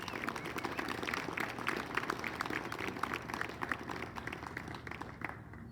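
An audience at a college athletics Hall of Fame induction claps in sustained, even applause for several seconds, many hands blending into a dense patter that thins slightly toward the end.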